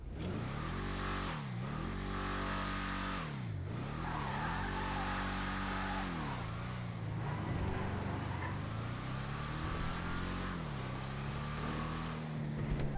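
Bravado Greenwood Cruiser police car in GTA Online, its engine revving repeatedly in rising and falling sweeps, then settling into a steadier drone, close and continuous with no talk.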